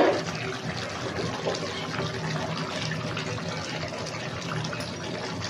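Blended tomato puree pours into a pan of chicken durbar kurma, a steady wet gushing and splashing that runs for several seconds, close and fairly loud.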